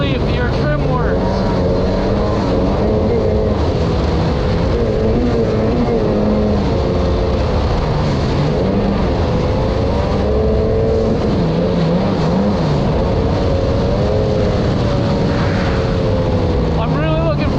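A 1995–96 Sea-Doo XP personal watercraft at top speed, its engine a loud, sustained roar with wavering pitch over constant water and wind rush, close up, with a voice talking underneath.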